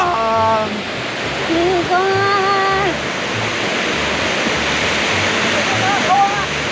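Shiraito waterfall rushes as a constant broadband roar, loud and close, while people talk over it briefly.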